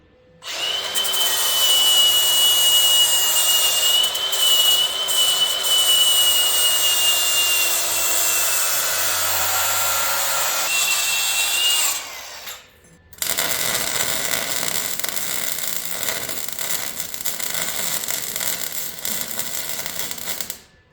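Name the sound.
grinding and re-welding a shortened F100 truck frame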